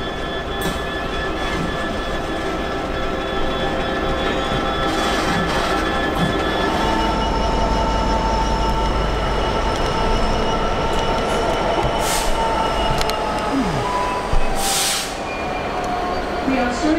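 A train near Salisbury rolls steadily along the rails with a constant loud rumble, occasional metallic squeals and clicks rising above it.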